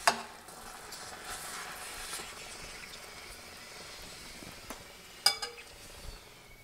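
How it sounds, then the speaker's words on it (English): Quick oats, olive oil and Bragg's liquid aminos simmer in a pan on low heat, giving a soft continuous sizzle with a few faint stirring clicks. "I've added my quick oats and my olive oil and my Bragg's liquid aminos, and now I'm going to let it simmer"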